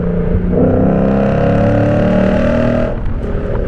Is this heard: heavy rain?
no